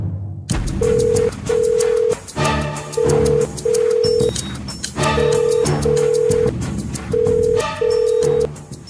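An outgoing phone call rings out in a TV serial scene, its repeated double-pulse ringback tone sounding loud over swelling dramatic background music, with no one answering.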